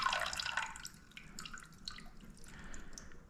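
Water poured into an espresso shot to make an Americano, a soft close trickle and dripping splash, quiet and without voices.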